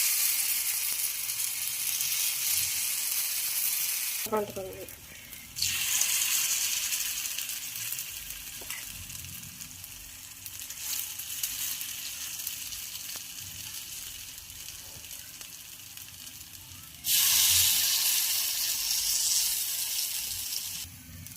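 Appe batter sizzles in a hot appe pan, a loud, steady hiss of frying that pauses briefly twice and then surges back as more batter goes in, with no talking over it.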